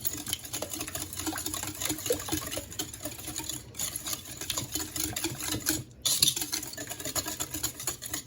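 An electric mixer blends zucchini bread batter, creaming the ingredients together. It gives a continuous close whirring drone with a busy rattling texture and two brief dips where the mixer pauses.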